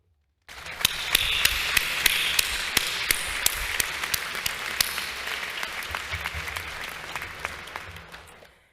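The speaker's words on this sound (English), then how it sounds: "Graduates, please join me with a round of applause" Sustained graduation ceremony applause starts abruptly and continues evenly, punctuated by sharp clicks like camera shutters, then tapers off at the end.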